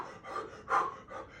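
A person pants out of breath after exercise, with several rhythmic, close, breathy gasps in quick succession and one louder heave in the middle.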